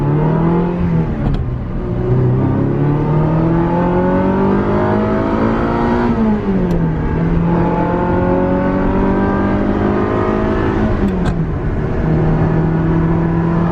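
A 1987 Ferrari 328 GTS engine pulls hard while driven, its loud, close note rising steadily through the revs, then dropping at each of three gear changes before climbing again.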